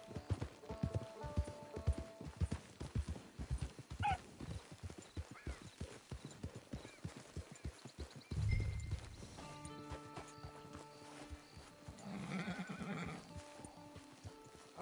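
Horse hooves clip-clop in steady rhythm in the video game Red Dead Redemption 2, followed by a horse's snort and whinny, with clear close hoofbeats and brief game sounds.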